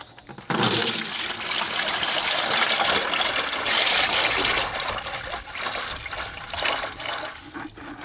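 Thin, gasoline-diluted oil drains quickly from a John Deere Model A tractor into a 2-gallon catch bucket, making a steady, close pouring and splashing rush that carries through the clip with no talk.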